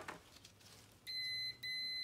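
A continuity tester beeps while checking the transfer case switch on a 1988 Dodge Raider (Mitsubishi Montero), giving two close, steady electronic tones after a quiet pause.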